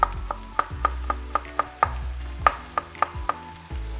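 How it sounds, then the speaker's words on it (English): A knife slices green onions at an angle on a cutting board, about a dozen crisp, evenly spaced chops in a quick steady rhythm, close and clear with no talk. "Now I'm going to slice some green onions."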